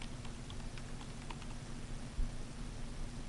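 Soft, quick keystrokes tap on a computer keyboard in a short, irregular run, faint and close against a quiet background hum.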